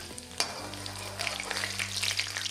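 Garlic hits hot oil for a spinach dish with a bright, hissing sizzle that swells after a sharp clatter, running steadily over a low hum, close by.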